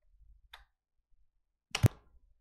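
A mouse click sounds while a computer is being used: a faint tick, then a sharper, louder click about a second later, both close and alone in near silence.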